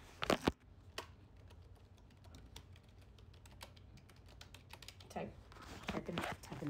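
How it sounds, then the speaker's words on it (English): Keys on a computer keyboard are tapped in quick, irregular clicks, faint and close, with a louder burst at the start and more near the end. "So I'm gonna verify it, so I'm gonna type it up."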